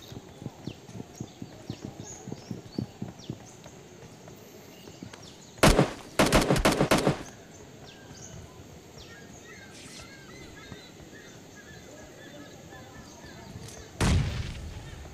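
Gunfire rings out in a solo-versus-squad battle royale video game: a loud rapid volley mid-clip and a shorter burst near the end, over quieter in-game ambience and footstep-like patter.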